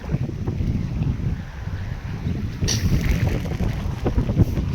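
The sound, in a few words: strong wind blowing over a farm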